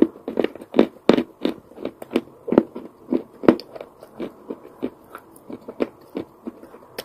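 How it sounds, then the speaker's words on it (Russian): Wet chalk is bitten and chewed up close, producing a steady series of sharp crunches and gritty crackles spaced in a chewing rhythm over several seconds, with no talking. "Хорошо, что он хрустит вот до конца"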